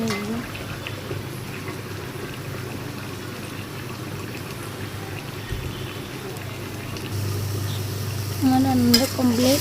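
Curry spiced with cumin powder simmers in a pan, giving a soft, continuous bubbling and light sizzle close by, with a brief voice near the end.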